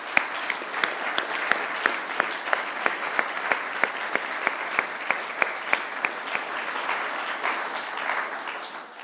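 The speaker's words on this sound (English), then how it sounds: "Let's please give Jamal and all the young people here a huge round of applause." A City Hall audience claps steadily at a community safety event for young people in London. The applause is sustained and moderately distant, with crisp individual claps standing out through the whole stretch and no talking over it.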